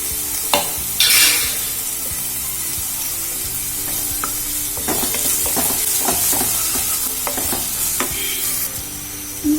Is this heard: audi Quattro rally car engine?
no